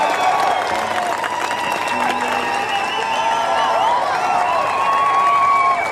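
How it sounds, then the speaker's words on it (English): A British Touring Car Championship paddock crowd cheers and applauds Tom Ingram as the new champion, with a sustained roar of clapping and a commentator speaking over it. "A huge cheer and a huge smile for Tom Ingram"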